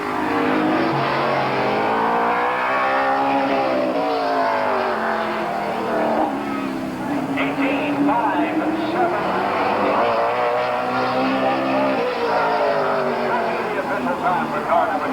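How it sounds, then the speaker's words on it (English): A race car at Canton Motor Speedway in 1988 laps the oval during qualifying, its engine droning loudly and rising and falling through gear and speed changes across the full stretch, with an announcer talking over it. "Rich Rohr out there ready to take his qualifying time."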